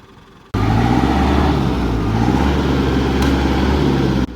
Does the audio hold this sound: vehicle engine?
yes